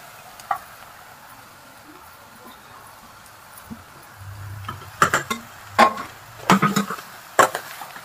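Mashed boiled potato is worked into dabeli masala with fried peanuts in a pan, giving several close, sharp scraping and stirring knocks in a cluster toward the end after a fairly quiet start.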